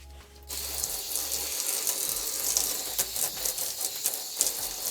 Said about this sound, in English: The rinse is very important in the shampoo process because you want to make sure that you got all of the shampoo out.